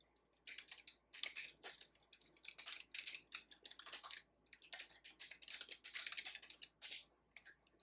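Keys clatter on a computer keyboard as an email address is entered, a quick irregular run of close, crisp clicks in short bursts with brief pauses, no voices.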